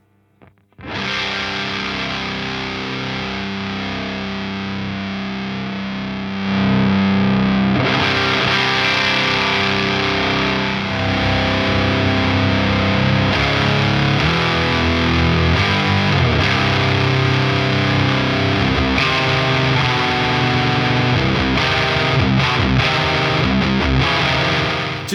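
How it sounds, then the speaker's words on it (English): An electric guitar runs through a BOSS HM-2w distortion pedal in standard mode, giving a thick, buzzing, saturated tone. Chords and riffs sound continuously at loud volume and get brighter and fuller after a few seconds. "turn on the HM-2w, and it's in standard mode currently"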